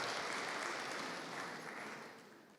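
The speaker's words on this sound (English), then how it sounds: "a round of applause" A round of applause from the audience at a Human Rights Day panel discussion, a full, steady clatter of many hands that gradually softens as it goes on.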